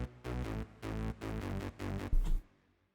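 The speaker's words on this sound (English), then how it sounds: "with a factory preset called Crust Bass" Nexus 2 factory preset Crust Bass, a layer for a hardstyle lead, plays a string of dense, gritty bass notes in short pulses, with one heavier hit near the end before it cuts off.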